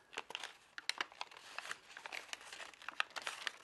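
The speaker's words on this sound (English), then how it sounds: "we're going to take this paper, this edge right here, and we're going to fold it to this edge" Origami paper is creased edge to edge in a diagonal valley fold, giving close, quiet crinkling and papery rustles with quick sharp crackles throughout.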